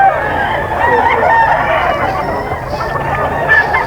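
Breeder roosters and hens at a gamefowl sale pen, a dense mix of crowing and clucking from several birds at once, steady and fairly loud throughout with no talk.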